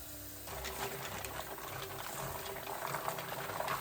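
Mussels swished around by hand in a bowl of water mixed with all-purpose flour, giving soft, continuous sloshing and watery swirling at low volume, close by.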